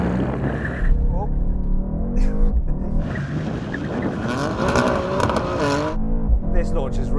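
A BMW M3 Touring launches hard off the line in a drag race against an AMG C63 S Estate, its engine roaring and revving steadily throughout, with a voice talking over the engine noise.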